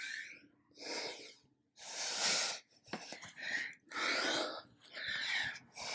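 Forceful breaths exhaled and drawn in during an advanced reformer Pilates HIIT workout, coming in a steady rhythm of long hissing pushes with short gaps, close and fairly loud.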